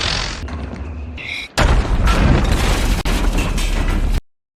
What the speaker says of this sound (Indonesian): Dave ingin menolong Oz, Dave pun terkena mortir